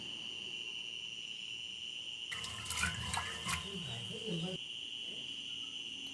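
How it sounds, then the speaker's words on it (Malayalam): Water is poured into a pressure cooker holding green peas for a traditional green peas curry, a splashing pour of about two seconds over a steady high electrical whine, with no talk. "ഇനി ഇതിലേക്ക് വേവുന്നതിനാവശ്യമായ വെള്ളം ഒഴിച്ചു കൊടുക്കുക."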